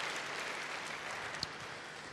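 A church congregation gives a brief burst of dense, steady clapping that fills the room at moderate volume, with one sharper clap standing out partway through.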